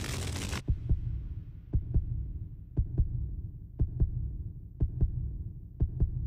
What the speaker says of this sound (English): This heartbeat is epic